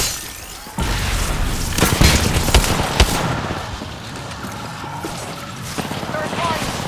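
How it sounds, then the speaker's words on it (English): Scattered gunshots and sharp impacts in an Apex Legends firefight, a few loud cracks around the middle over a steady battle din, with squad voices talking. "I'm in trouble. Taking fire."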